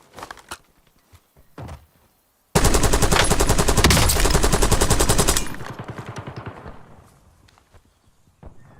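Rapid automatic gunfire in a video game, a dense continuous burst of close, loud shots lasting about three seconds, with scattered footsteps and softer knocks before and after.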